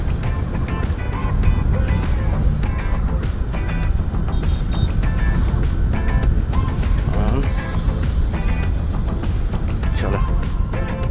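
A motorbike engine, just started, runs at a steady idle in a close, continuous drone with rapid fluttering pulses, while people talk over it.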